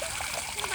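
Water splashes briefly as hands are washed, a quick wet splatter with a voice speaking over it.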